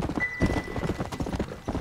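A horse's hooves clip-clop in Red Dead Redemption while riding toward Hennigan's Stead, a short run of close, steady strikes with a brief neigh-like tone.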